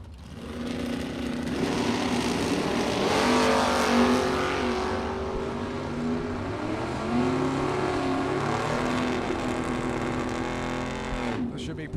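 A 1971 Vega and a 1969 Camaro, both small-block drag cars, launch at a drag strip, engines snarling and rising in pitch as they pull away, fading later, with an announcer talking over them.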